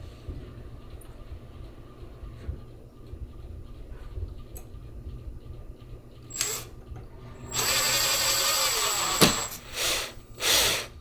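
A power drill drives screws to fix a cordless blind bracket to a windowsill, giving a short whir and then a longer whining burst with a few brief pulses. It is fairly close, and there is no talking.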